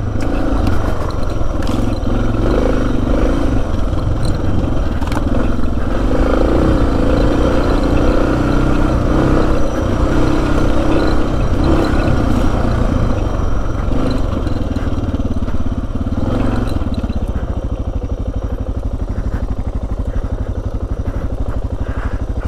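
A Suzuki DR650 motorcycle riding through sand, its single-cylinder engine droning loud and steady up close with rising and falling revs under wind buffeting, easing off toward the end.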